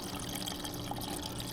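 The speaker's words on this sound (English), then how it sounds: "We'll put this over the sink and let this wash it down." Tap water runs steadily into a sink, rinsing leftover soap off jewelry after an ultrasonic cleaner, a continuous close splashing flow with no talking.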